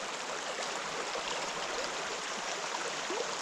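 A river runs in a steady, unbroken rush of water across the whole span, close and moderately loud, in a sweltering southeastern summer trout-fishing spot, with no voices.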